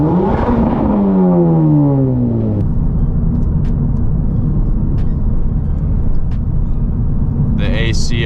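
A modified Honda Civic Type R FL5 with an AWE Touring exhaust revs hard, its pitch sweeping upward in a loud, rising engine note before settling into a steady cabin drone, with brief voice sounds near the end.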